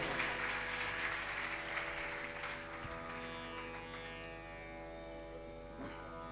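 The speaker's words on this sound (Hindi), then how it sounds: "एक बार इनके लिए जोरदार तालियों से स्वागत करें आप लोग।" Audience applause at a Shrimad Bhagwat Katha religious discourse gathering, a broad wash of clapping that is loudest at the start and then thins and fades, with tonal background music or hum running steadily underneath.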